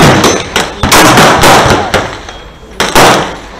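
Gunshots at an outdoor shooting range, loud sharp cracks at irregular intervals, each with a short ringing decay, some close together and others spaced apart.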